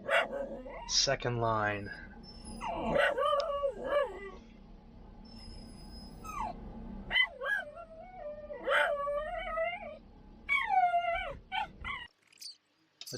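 A dog barks, whines and howls in repeated bursts outdoors in Death Valley near a mud-stranded truck, close and loud, while a person talks over and between the calls.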